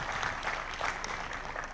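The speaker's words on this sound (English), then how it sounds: "a big round of applause for our changemaker today" Audience applause welcoming historian Ramachandra Guha at a GITAM Changemakers event, a short burst of dense, steady clapping from a crowd.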